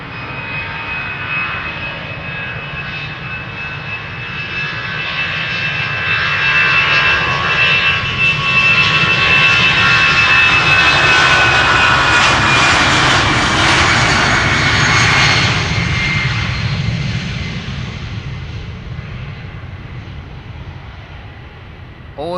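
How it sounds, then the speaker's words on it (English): An EasyJet Airbus A319, first flown in March 2007, departs Schiphol for London Gatwick, its jet roar swelling to a loud, sustained peak with a high turbine whine, then slowly fading as it climbs away. "EasyJet A319, 17 years old, first flight March 2007, off to London Gatwick."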